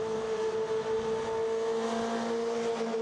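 Legends race car engines drone at a steady, unchanging pitch, a continuous tonal hum from several cars moving at a controlled pace toward the start line, fairly distant.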